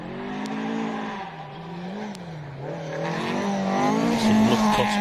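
Rally car on a New Zealand gravel special stage at Rally South Canterbury, engine rising and falling through gear changes, then revving harder and louder as it passes close by, with tyre squeal and no talking.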